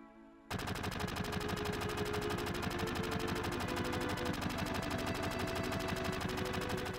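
Sustained rapid gunfire from the video game Final Fantasy 7 rattles loudly and continuously after a brief quieter start, a dense machine-gun-like burst with no talking over it.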